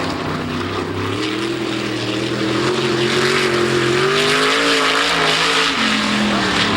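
A sprint car roars through a qualifying lap at Kankakee in 2007, its loud engine note rising and falling steadily as it runs the oval, with no talk over it.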